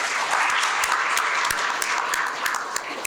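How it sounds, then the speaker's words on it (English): Students applauding throughout a placement orientation session, a steady, moderately loud wash of many hands clapping with no talk over it. "Give him a round of applause."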